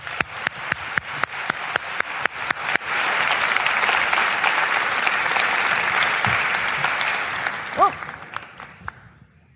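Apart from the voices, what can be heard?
audience applause at a wellness summit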